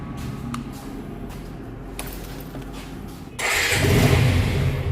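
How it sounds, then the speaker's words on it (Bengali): A used Suzuki Gixxer SF 2020 motorcycle is cranked after a few faint clicks and fires up about three seconds in, settling into a loud, close, steady idle. "এখন আপনাদেরকে একটু বাইকটা আমরা স্টার্ট দিয়ে দেখাবো দেখুন"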